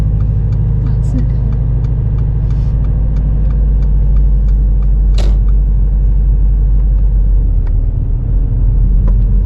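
A car engine rumbles steadily at close range as a learner driver pulls away on small roads during rush hour, a continuous low drone with light clicks over it and no pauses.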